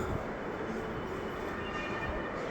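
A metro rail train rides along with a steady low rumble and broadband rolling noise in the carriage, at a constant level and without clear talk.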